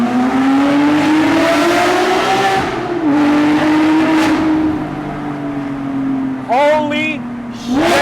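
Porsche 997.2 GT3 RS flat-six revving hard beneath a highway overpass, loud sustained engine howl with rising and falling pitch sweeps and sharp blips near the end, heard from inside the car with windows down.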